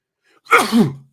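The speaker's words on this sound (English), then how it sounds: "Was that a sneeze out of your mouth more than your nose?" A single sharp sneeze, close and loud, preceded by a faint breath.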